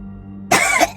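After a moment of quiet low hum, a person gives a sharp, harsh cough, then a second short cough right after, loud and close.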